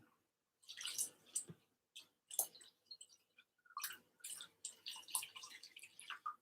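Water for oven-baked rice going into a dish with bone broth, heard as close intermittent splashing and trickling bursts separated by brief pauses.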